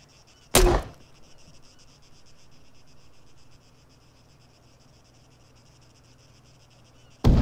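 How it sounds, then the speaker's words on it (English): Grenade launcher in a video game firing a round downrange: one sharp, loud report followed by a fading tail, then a steady insect-like ambient hum, and a second loud burst at the very end. "I'll use the left mouse button, and then I will fire a round downrange. Fire."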